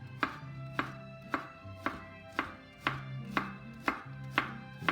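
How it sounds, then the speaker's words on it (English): Knife chopping onion on a cutting board, about nine sharp, evenly spaced chops ringing out close and clear, with no talking. "what I'm going to do is I'm going to chop this up"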